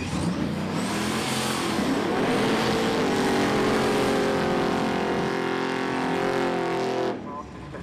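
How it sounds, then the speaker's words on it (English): A drag racing car roars at full throttle during the Street Eliminator national finals, a loud sustained engine howl rising in pitch and then cutting off near the end, with a commentator talking over it. "Well, Davey's onto an absolute flyer, but looks like problems for Stuart here"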